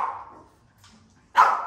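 A dog gives two short barks, close and moderately loud, separated by a brief quiet gap.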